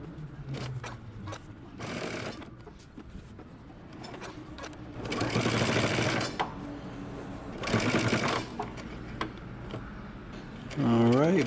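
A sewing machine stitches down a shirt collar in short surging runs, whirring up and easing off close by, with a voice speaking over parts of it.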